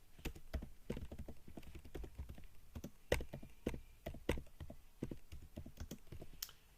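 Keys tapped at an irregular pace on a computer keyboard while SQL cursor code is written, a quiet close clatter of single presses and short bursts with no voices.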